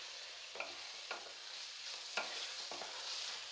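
Goat liver curry sizzles steadily in a pan while a spoon stirs it with coriander powder, giving a few scraping strokes over a constant soft frying hiss.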